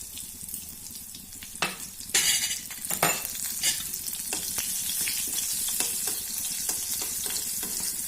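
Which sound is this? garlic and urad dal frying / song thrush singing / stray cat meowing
garlic and urad dal frying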